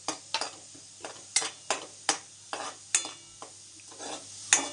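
A spoon scrapes and stirs a turmeric-spiced mixture frying in oil in a pan, with about a dozen sharp, rhythmic strokes over a soft, continuous sizzle.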